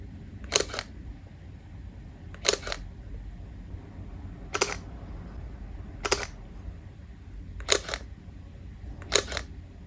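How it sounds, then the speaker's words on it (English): A Leica M262 rangefinder camera shutter clicks six times at an even, unhurried pace, each crisp snap standing alone against quiet background hiss. "And did I mention the shutter sound?"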